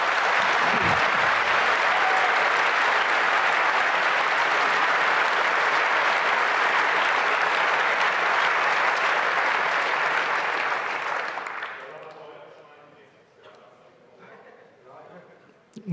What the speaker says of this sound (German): ein herzlichen Dank und großen Applaus für Frack.